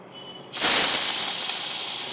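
After a short quiet moment, garlic hits hot spiced oil in a pan and bursts into a loud, sharp hissing sizzle that holds steady and strong to the end.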